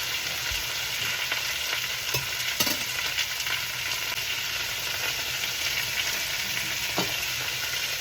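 Onions fry in a pan for country chicken curry, a loud, continuous hissing sizzle up close with occasional stirring knocks and scrapes and no talking.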